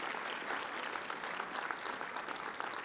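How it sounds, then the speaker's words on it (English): An audience at the Menu of Hope 2026 fundraiser bursts into dense, steady clapping that holds at an even level throughout, with no voices standing out. "applaud that for sure"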